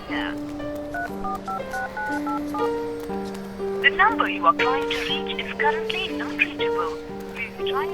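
A run of telephone keypad tones beeps out a number in quick succession while a voice talks over the later tones.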